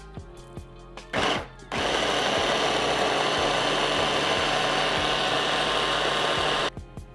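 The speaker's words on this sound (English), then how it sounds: "All those ingredients are in the food processor. Let's put the lid on. And now blend it." A food processor blends ricotta gnocchi ingredients. A short burst comes first, followed by several seconds of loud, steady whirring and grinding that stops abruptly.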